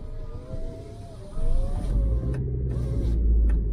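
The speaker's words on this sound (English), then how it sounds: "Just put the windows up." A car's electric power windows whirring up inside the cabin, a steady motorised drone with creaking mechanism, close and fairly loud, ending with brief thuds as the glass seats.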